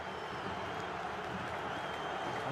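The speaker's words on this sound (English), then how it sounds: "And the loudest cheer of the afternoon so far from the home crowd" A home football crowd at an AFC Champions League Two match between Al Zawraa and Al Wasl roars and applauds after a red card, a continuous broad wash of distant stadium cheering.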